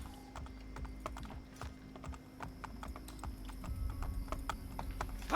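Horse hooves clip-clopping at a steady gallop in Assassin's Creed Brotherhood, a rapid train of sharp hoof strikes over a low steady hum, fairly close and moderately loud throughout.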